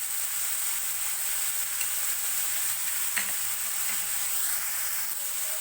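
Chicken sizzling in a pan with garlic ginger paste over a medium flame, a steady close hiss of frying with a few faint clinks of stirring, no voices.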